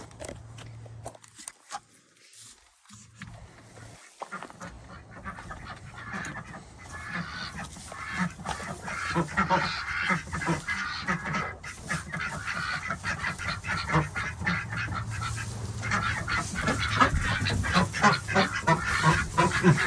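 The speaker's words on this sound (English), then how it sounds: "The ducks are in for the night. We are just going to move them one by one to our duck house" Ducks moved into their night coop keep up a dense, steady chorus of honking quacks that grows louder and busier over about twenty seconds, with no talk.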